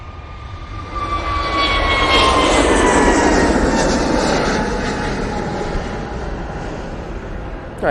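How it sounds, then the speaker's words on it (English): Jet airliner at Manchester Airport, a loud sustained engine roar that swells over the first seconds, holds broad and rumbling with a whining tone, then slowly eases, heard alone without talk. "Nice pan down the aircraft there."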